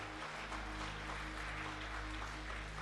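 A church congregation applauding during a celebration service, a continuous, even roar of clapping over a low hum, steady throughout without pauses.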